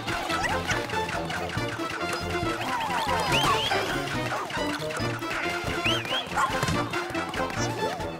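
A dog in the video game Pikmin 4 barks and yips repeatedly amid busy game music and effects, fairly loud, while a player talks.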